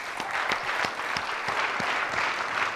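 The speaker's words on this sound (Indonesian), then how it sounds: "Kita berikan aplaus terlebih dulu." Steady applause rises from an audience at a formal economic presentation. The clapping is dense and continuous, moderately loud, with no talk over it.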